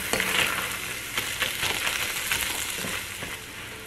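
Spices sizzle in hot oil in a pot for pumpkin chili while being stirred, a close, steady crackling frying hiss with scraping stirs.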